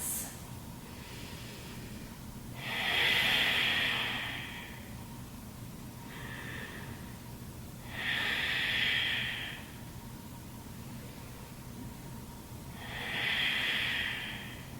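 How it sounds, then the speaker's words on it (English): Deep, slow breathing during a yoga session, with three long hissing breaths spaced several seconds apart, close and clear against a faint steady background. "3 deep breaths."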